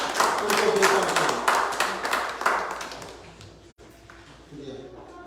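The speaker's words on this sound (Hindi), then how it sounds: "तालियों के साथ उनको वेलकम करें।" A church congregation at a Sunday service claps to welcome a speaker. Steady applause fills the room for a few seconds, then fades as a voice begins talking.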